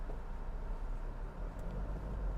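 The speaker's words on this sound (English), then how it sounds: "You can hear the engine noise, so the insulation is not very good as compared to Kodiaq." Inside the cabin of a Toyota Fortuner SUV in bumper-to-bumper traffic, a low, steady engine hum drones quietly with no other sound.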